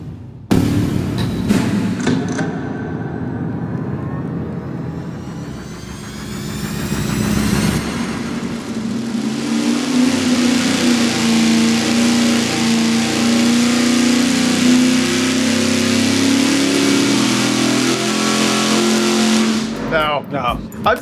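A 500-horsepower engine fed by a 20-gallon-per-hour mechanical fuel pump revs on a dyno, building to a loud sustained roar before cutting off abruptly at the end, with people talking around it.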